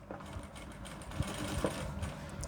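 An electric sewing machine stitches a pillow cover in a close, steady whir broken by a few sharper mechanical knocks, without speech.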